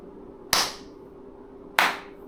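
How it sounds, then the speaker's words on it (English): Two sharp, loud hand claps spaced about a second apart, each a crisp single smack in a quiet room with no other sound. "Me clapping"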